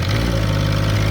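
A Yanmar D27 diesel outboard mounted on a tiny boat settles into a steady idle right after starting, with a constant low, throbbing tractor-like rumble held at an even level throughout.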